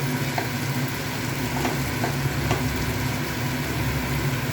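Tomatoes and onions stir-frying in a pan, a steady close sizzle with faint scraping stirs now and then, no voices.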